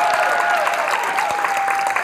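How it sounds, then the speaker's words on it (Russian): Studio audience at a televised joke show breaks into applause, a dense, steady burst of clapping lasting a couple of seconds with a faint tone running underneath. "Но аплодисменты, друзья."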